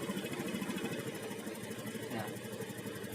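A Honda Pop automatic motorbike with an injection system idles steadily, a low, even, slightly rattly engine hum holding near one pitch throughout.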